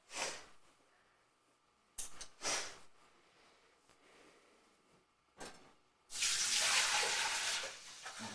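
Water from a tap gushes into a large cooking pot for rice and cinnamon in several short bursts, ending with a longer, louder pour that fills the pot, close by.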